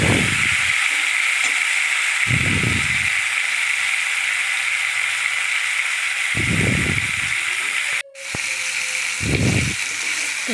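Mango pieces sizzle in hot oil with bay leaves while being fried for a sweet-sour-spicy Bengali mango pickle, a loud continuous frying hiss broken by several periodic scraping bursts of stirring.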